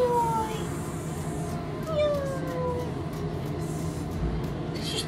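Cats meowing at an animal shelter, with long drawn-out meows and a caterwaul rising over steady room noise, fairly close, alongside other faint background sounds.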